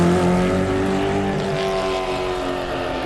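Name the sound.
vehicle engines roaring in video game Mad Max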